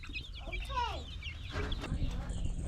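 Chickens cluck and squawk close by in a short burst of agitated fowl calls, with a little background noise.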